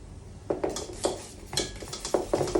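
A hand whisk beats a cream mixture with double cream in a bowl, producing rapid rhythmic clinks and scrapes of metal wires against the bowl in quick repeated strokes, close and fairly quiet.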